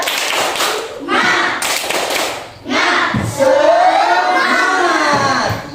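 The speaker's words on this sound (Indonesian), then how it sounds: "Kita tepuk semangat dulu." A school class of students in an Islamic religious education lesson stands for a rhythmic spirit clap, with loud bursts of group clapping and thumps mixed with the whole group chanting and shouting in unison, close and energetic.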